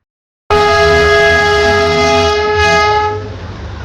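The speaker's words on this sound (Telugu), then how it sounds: "సో మళ్ళీ మనకైతే టాయ్ ట్రైన్ అయితే దర్శనం ఇచ్చింది" The Darjeeling toy train sounds a long, loud, steady horn blast close by, starting abruptly and lasting about three seconds before fading under rumbling rail noise.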